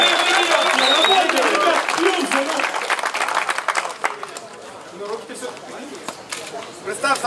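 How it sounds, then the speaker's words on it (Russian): Audience applause at a fighting show, a dense wash of clapping that is loud at first and fades over several seconds, with voices mixed in. "Аплодисменты, аплодисменты!"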